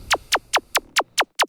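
Seven quick descending synth zaps in a steady rhythm, each a bright sweep falling in pitch, loud and clean against near silence.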